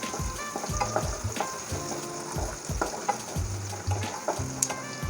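Onion frying with salt in a pan over a high flame, with a steady close sizzle and spatula stirring and scraping in an irregular rhythm throughout, and no voices.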